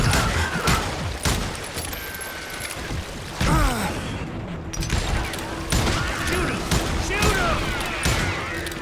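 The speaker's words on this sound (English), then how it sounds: "Watch where you're shooting." Rapid volleys of gunfire ring out in the Western shooter Call of Juarez: Gunslinger, loud, close bursts repeating across the whole stretch amid ricochets and impacts, with game dialogue voiced over the shooting.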